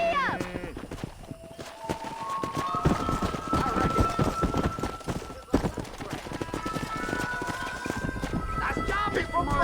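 Horse hooves clopping at a gallop in the Red Dead Redemption video game, a steady rapid beat running through the whole stretch alongside game music and voices, with a louder thud partway through.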